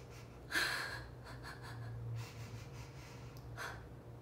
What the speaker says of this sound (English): so inhale